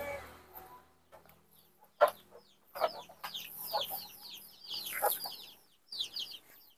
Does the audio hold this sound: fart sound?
no